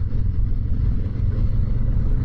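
A 2021 Harley Davidson Low Rider S motorcycle rides along, its engine a steady, close, deep rumble with wind noise and no break.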